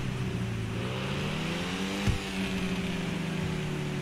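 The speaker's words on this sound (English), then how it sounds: "the crackle from the exhaust" A Pfister Comet SR, modelled on a Porsche 997 GT2 RS, idles and revs in GTA 5, a steady engine hum with one sharp exhaust crack midway, close and moderately loud.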